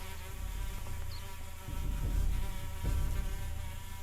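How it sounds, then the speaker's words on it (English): Flies buzzing steadily in a dark tabletop horror game soundscape set in Kenya, a dense insect drone that swells a little louder partway through, with no voices. "the buzzing of flies indicating decay"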